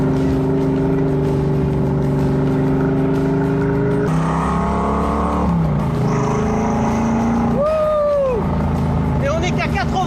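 A torquey small-block V8 car engine drives along at about 80 km/h, humming steadily and then shifting and revving up, with a voice talking over it.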